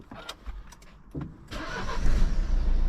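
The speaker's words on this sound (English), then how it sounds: "So I'm just going to give the car a start and check it for leaks." A 2014 Nissan car's engine cranks briefly and catches, then settles into a steady, fairly loud idle rumble that builds over the final second or so, with no voices.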